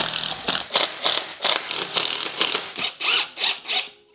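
An electric screwdriver driving screws into a wall, a steady series of about a dozen close, loud ratcheting pulses in even rhythm.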